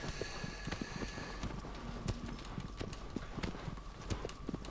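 Horse hooves galloping in the video game Shadow of the Colossus during an Any% speedrun: a fast, steady clip-clop of hoofbeats at close range over a low ambient rumble, with no talking.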